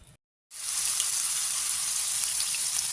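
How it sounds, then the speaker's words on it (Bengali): Potatoes frying in mustard oil in a wok give a loud, dense, steady hiss of sizzling that starts abruptly after a brief silence and carries on evenly, close up, with no voices. "আলু দিয়েছি। আলুটা একটু ভাজা ভাজা করে নেব"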